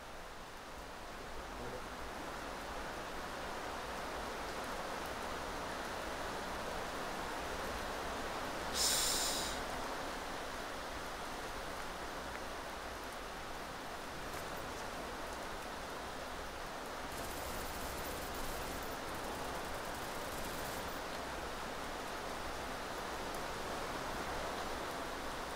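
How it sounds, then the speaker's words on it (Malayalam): Steady rain pours down in a video game, a constant broadband hiss filling the whole stretch with a brief brighter burst partway through and no clear speech over it. "ഇവിടെ മഴ പെയ്യാൻ തുടങ്ങി."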